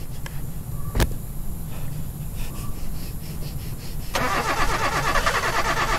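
Car engine starting in the horror video game Alien Abduction Horror: a click, then a cranking turnover that catches into a loud, steady running engine.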